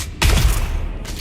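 Gunfire in the video game Dune Awakening: a dense burst of loud, booming shots with heavy low thumps, running continuously for about a second after a brief quiet start.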